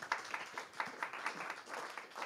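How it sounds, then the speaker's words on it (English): Applause from a small audience at the end of an online learning session, faint and thin, made of a few distinct irregular claps rather than a full roar, lasting only a couple of seconds. "Let's give them another round of applause."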